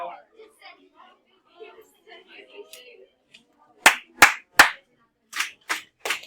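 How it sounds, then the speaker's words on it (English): Sharp hand claps in a classroom ring out in two quick bursts of three after a stretch of quiet chatter, each clap loud and close. "Yeah, I can clap again, and I can clap as much as we need to"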